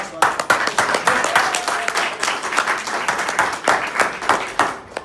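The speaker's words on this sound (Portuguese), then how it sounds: "Você quer dar uma salva de palmas?" A church congregation breaks into applause, dense overlapping claps filling the space at steady loudness, with voices and murmur mixed in underneath.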